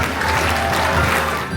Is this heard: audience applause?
yes